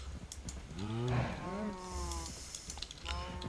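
Cows in the Minecraft Feed The Beast modpack moo in a few drawn-out, close lowing calls, with keyboard typing and someone speaking in the background.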